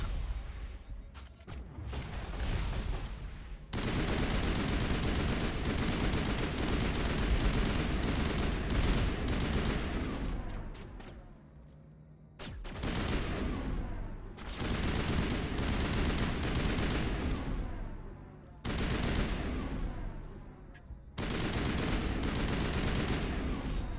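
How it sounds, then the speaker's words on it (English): Rifle fire from a three-round burst weapon in Mass Effect, dense continuous crackling volleys in long loud stretches, with a few brief lulls between bursts and no talking over it. "I didn't realize this was a 3-round burst rifle."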